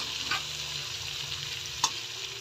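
Tomatoes frying in a pan as they soften before corned beef goes in, a steady close sizzle with two brief stirring scrapes.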